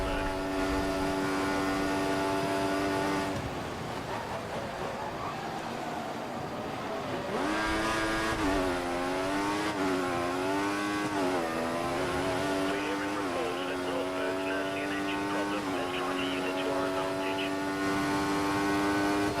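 A Mercedes F1 race car engine in the F1 2014 racing game gives a high, buzzing whine whose pitch climbs and drops repeatedly through gear changes, steady and close throughout.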